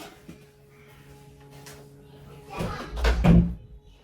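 An indoor door pushed shut in a home, a muffled low thump and rumble near the end after a quieter stretch of soft room noise.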